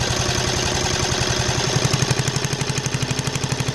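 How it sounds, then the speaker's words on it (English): A car engine running on hydrogen idles loudly and close up, with a steady rapid pulsing firing rhythm that grows slightly more pronounced toward the end. "Now listen when I turn on the hydrogen."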